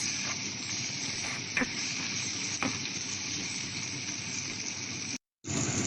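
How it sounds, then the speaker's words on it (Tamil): Tomatoes and onions sauté with salt for a village-style Tamil mutton curry, giving a continuous soft sizzle and hiss with a few stirring scrapes and a brief dropout near the end. "உப்பு சேர்த்து நன்றாக வதக்கும்."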